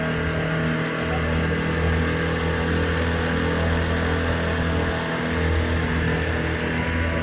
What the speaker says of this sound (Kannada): ಫಿಶಿಂಗ್ ಬೋಟ್ ನೋಡಿ, ಫಿಶಿಂಗ್ ಬೋಟ್